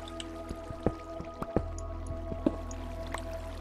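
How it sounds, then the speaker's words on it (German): Minecraft water pours in, with irregular wet drips and squishy splashes over a low steady hum, fairly faint and spaced unevenly across the moment. "Und Wasser strömt überall irgendwie rein."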